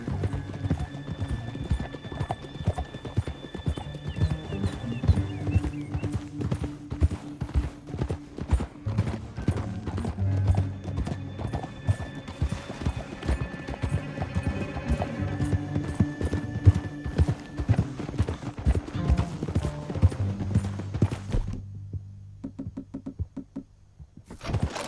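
Horses gallop in Red Dead Redemption 2, a steady run of hoofbeats close by with an occasional whinny, slowing toward the end as the riders pull up.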